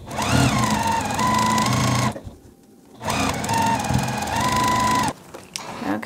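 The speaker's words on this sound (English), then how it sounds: "And sew 1/4 inch." A sewing machine runs a quarter-inch seam on a Weathervane quilt block in two steady bursts of stitching, close and loud, with a brief pause between them and a short quieter stretch at the end.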